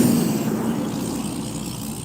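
A loud truck rumbles close by in a steady, heavy drone that eases slightly as it moves off, with no talking.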